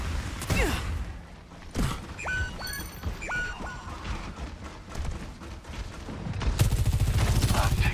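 Gunfire in Overwatch 2 destroying an enemy turret, heard as a dense run of game shots and impacts with metallic pinging hits, rising into a heavier sustained burst near the end, with game voice lines mixed in.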